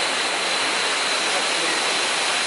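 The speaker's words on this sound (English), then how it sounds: "Checking out the waterfalls, man." Waterfalls at Agua Azul near Palenque roar as a dense, steady rush of water, loud and unbroken for the whole stretch with no other sounds on top.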